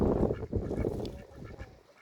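Ducks quack and honk in a short noisy burst, several calls close together, fading toward the end.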